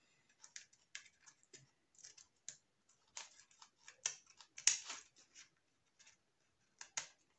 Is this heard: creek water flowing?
no